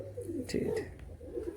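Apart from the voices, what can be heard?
pigeon cooing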